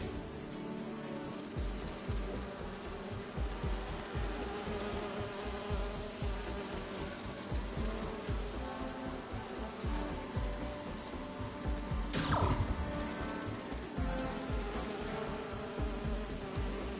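Bees buzzing in the video game Spider-Man 2, a steady, dense, close swarm drone that hums continuously throughout, with one brief sharp sound partway through and no talking.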